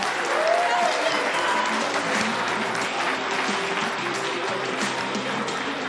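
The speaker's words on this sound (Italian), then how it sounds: "intanto cominciamo con un applauso." Studio audience applause on an Italian TV show, a steady dense wash of many hands clapping that holds throughout with no break.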